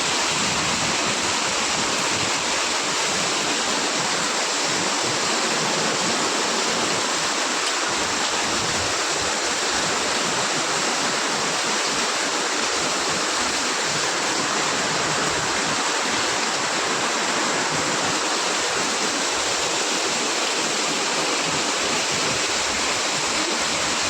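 Heavy rain falls without letup in Dholka, a thick, loud wash of water that stays even and close across the whole stretch, with no one speaking.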